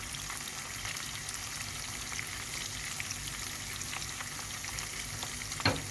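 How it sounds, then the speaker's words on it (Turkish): Food sautés in a pan just after salt goes in, a soft continuous sizzle with faint stirring, fairly quiet, ending with one sharp utensil knock near the close; no talking. "Şimdi güzelce kavuralım."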